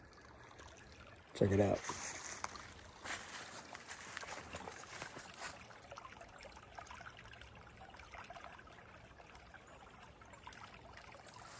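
Water trickles and babbles steadily in the background, a soft continuous flow, with a brief loud knock early and a voice speaking a few words.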